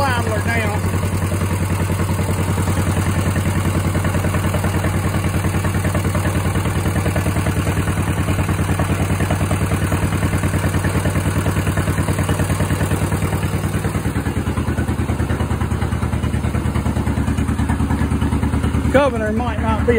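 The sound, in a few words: engine idling down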